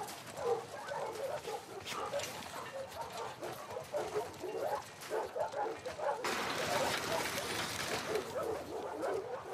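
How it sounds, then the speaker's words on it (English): A dog in The Last of Us Part II video game gives short, lively barks and whimpering yips near the listener, over a steady game soundscape, with a louder ambient bed in the last few seconds. "Hey, you crazy dog."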